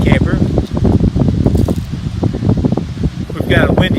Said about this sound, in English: We've got a windy day here today, so I gotta hang on to my hat.